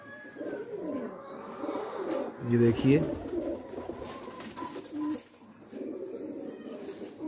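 A Kalsira pigeon coos in low, rolling bursts close by, while someone speaks briefly over it.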